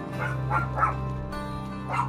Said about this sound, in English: Sorry about all the dogs.